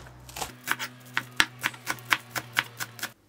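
A knife taps rhythmically on a cutting board, chopping parsley or dill, about a dozen quick, crisp chops in a row with a faint hum behind them.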